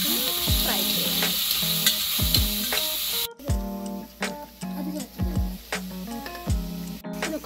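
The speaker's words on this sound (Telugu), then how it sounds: "కొత్తిమీర, పుదీనా, అన్నీ వేసేసి ఒక స్పూన్ అల్లం వేసేసి అన్నీ కొంచెం ఫ్రై చేయండి." Coriander, mint and a spoon of ginger frying in a pan for kheema fry, a loud steady sizzle broken by repeated scraping stirs and spoon knocks throughout.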